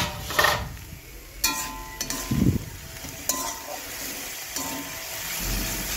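A spoon scrapes and stirs chickpeas and soft greens cooking in a pan, with a low sizzle beneath several separate knocks and scraping strokes spread across the moment.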